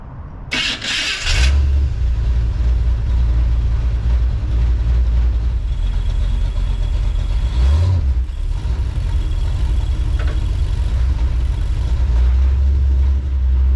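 A 1984 Chevy Silverado with a swapped-in 350 V8 cranks briefly and catches on a hot start, then settles into a loud, steady rumbling idle with one short rev partway through.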